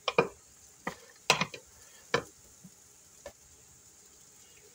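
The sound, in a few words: stirring a food mixture with Frank's hot sauce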